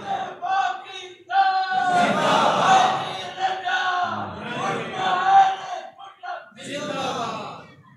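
A large crowd chants religious slogans in loud unison, several drawn-out shouted calls rising and falling with brief pauses between them.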